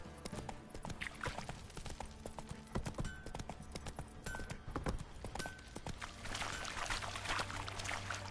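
Horse hooves clip-clopping in a video game, a close, steady trot of hoofbeats over a splashing, watery ground sound, continuing throughout with no voices.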